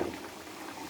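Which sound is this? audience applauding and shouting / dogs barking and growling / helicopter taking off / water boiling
water boiling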